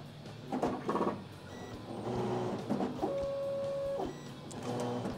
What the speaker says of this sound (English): The machine will first find a home position.